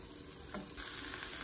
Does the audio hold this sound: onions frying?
yes